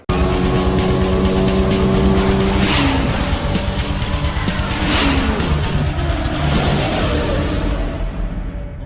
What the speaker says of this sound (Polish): Porsche we współpracy ze studiem Pixar stworzyło jedyny i niepowtarzalny egzemplarz modelu 911 nawiązującego do postaci Sali Carrery